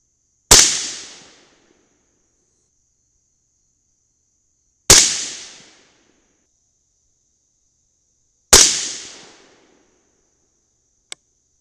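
Three loud rifle shots with Mk 262 clone ammunition loaded with Nosler bullets and AA2520 powder, each a sharp crack evenly spaced about four seconds apart with a quick decay, followed by a small faint click.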